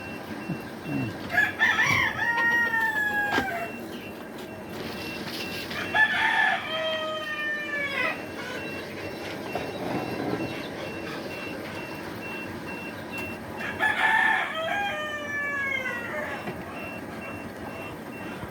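Chickens in a coop, with a rooster crowing loudly and close three times and scattered clucks over a steady hum, while people talk softly nearby.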